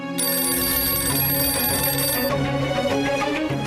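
A loud electronic telephone ring sounds continuously, a bright tonal trill that persists throughout with a shift partway through, with no voices.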